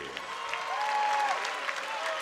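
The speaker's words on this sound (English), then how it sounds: "a big round of applause for the challenger, Chaz Mulkey." A crowd applauds at a kickboxing bout, with steady sustained clapping and some cheering. A faint voice comes through under the clapping.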